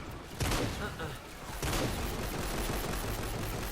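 Gunfire from a pistol and a turret in Fortnite crackles in sharp bursts, two louder volleys standing out over a steady rattle of shots, with faint talk underneath.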